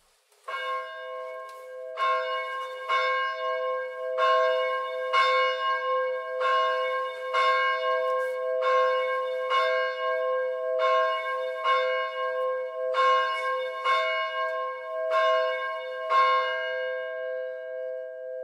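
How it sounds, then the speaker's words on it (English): Church bells at a Lutheran church ring out on Easter, with a regular sequence of clear, resonant strikes repeating steadily and overlapping with long ringing tails, heard alone without talk. "we have the ringing of the bells"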